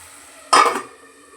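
Chopped tomato pieces for a tomato curry land in a hot pan and are stirred, giving one short, loud clatter of metal and food that quickly fades to quiet.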